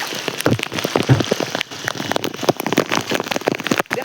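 Heavy rain pours onto the ground outdoors, a dense continuous patter of drops with scattered sharper splashes, loud and steady throughout with no talking.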